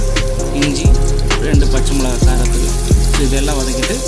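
Three cinnamon sticks and three cardamom pods fry in coconut oil in a kadai, a loud, steady sizzle with a few sharp clinks of a spoon against the pan.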